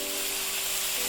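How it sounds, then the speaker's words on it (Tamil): Tomatoes frying in a pan give off a steady, close, even sizzle with no talking. "இதையும் நல்லா ஃப்ரை பண்ணிடலாம்."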